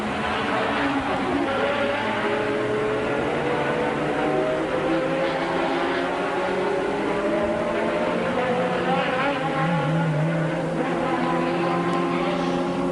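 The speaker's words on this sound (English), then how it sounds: "Here's the replay of the crash that was sure to ignite various interpretations." Engine noise from Formula 1 race cars in 1992, with steady droning tones under a dense, constant roar across the whole stretch, loud and continuous with no clear single impact.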